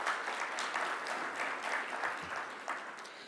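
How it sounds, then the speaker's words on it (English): Audience at a manufacturing summit and awards ceremony applauds the award winners, a steady, moderately distant wash of clapping with no other sound. "Let's give them a big, big round of applause"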